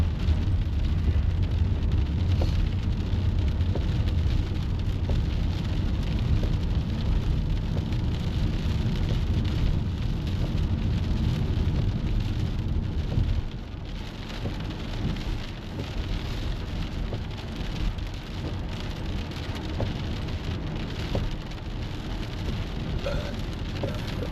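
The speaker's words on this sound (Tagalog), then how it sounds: "Tindi ng ulan guys. Ayaw talaga tumigil." Heavy, steady rain pours down outside a house in New Zealand, a loud continuous hiss with low rumbles of thunder in the first half before it eases slightly and keeps falling, no voices.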